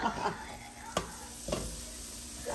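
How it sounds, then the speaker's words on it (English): Eggplant curry sizzling as it fries in a pot, with a steady crackle under three sharp scraping stirs of a spoon against the pot, close and moderately loud. "Frying up nice in there."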